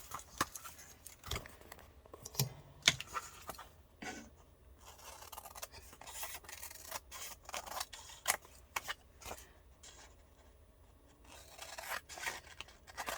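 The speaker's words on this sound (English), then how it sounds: "to cut this out to fit perfectly to fit this 5x7 card, right? So then I just trim around." Scissors trim around a paper collage cutout sized to fit a 5x7 card, giving quiet, close, irregular snips and crisp paper rustles with short pauses between cuts.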